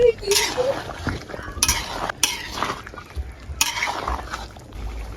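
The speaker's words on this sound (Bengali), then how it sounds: "এবার সবকিছু ভালো করে মাংসের সাথে মিশিয়ে নিব।" Mutton masala curry being stirred in a pot, with the spoon scraping and clinking against the metal in three bursts of scraping and mixing at close range, no talk over it.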